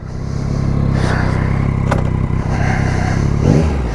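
Heavy motorcycle loaded with luggage pulling away at the start of a long trip, engine rumbling up as it accelerates with wind noise over the close, continuous drone.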